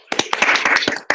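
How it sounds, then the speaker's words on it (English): Rotary club members clap together over a Zoom video meeting, a short ragged burst of overlapping hand claps with uneven spacing, fairly close and dense, and no talk. "Can we unmute and give them all a round of applause?"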